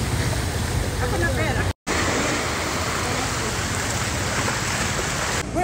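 Waves and rushing water around a small boat near the entrance of the Puerto Princesa Underground River in Palawan, a steady loud wash of surf with a brief cut partway through.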